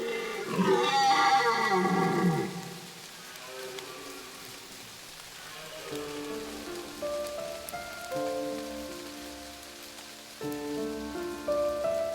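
Steady rain patters throughout in Germany's Black Forest, a deep animal courtship bellow rings out at the start, and soft sustained musical tones come in later.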